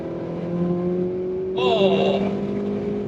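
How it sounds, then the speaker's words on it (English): A 2006 Ford GT accelerates hard in third gear on the Autobahn, its engine drone steady and strong, with a brief higher-pitched burst partway through and a voice talking over the sound. "So third gear, oh, that picks up very well."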